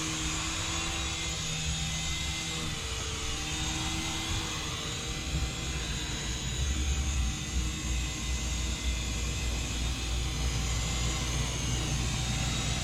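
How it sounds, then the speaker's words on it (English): Syma S107G toy RC helicopter flying indoors, a continuous close whirring of small rotors and motor with a steady high whine, holding level in loudness throughout. "beginner helicopter"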